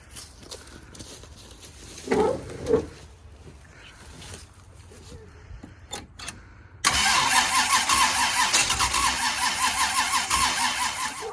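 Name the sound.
Cutlass car engine cranking on a start attempt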